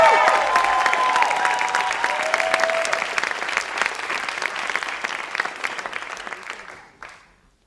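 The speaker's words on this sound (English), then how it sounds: "please give them a round of applause" An audience at a live storytelling show applauds the teachers and staff, full steady clapping with some cheering that tapers off and stops abruptly near the end.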